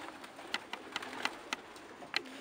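Pigeons in a loft give several soft, short coos and calls scattered at irregular intervals, faint against a steady background hiss, with no talking.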